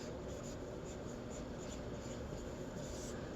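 Marker or chalk scratches across a classroom board in a continuous rubbing stroke, close and fairly quiet over a dull room hum, with no voice.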